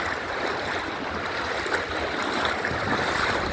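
Heavy rain pours down in a steady, dense rush of broadband hiss that holds constant throughout, close and loud with no voices.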